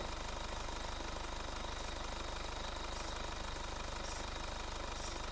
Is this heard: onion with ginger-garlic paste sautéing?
no